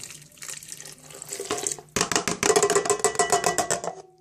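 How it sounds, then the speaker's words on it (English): A dissolved yeast mixture is poured into a bowl, giving a steady liquid splashing stream that grows louder and fuller partway through, with no talking. "take your yeast mixture, dissolve yeast, pour that in there"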